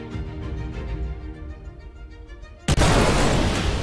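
SAS-4 missiles strike the Reclaimer ship in a space game: a steady ticking, humming cockpit ambience gives way to a sudden loud impact near the end, followed by a sustained roaring rumble.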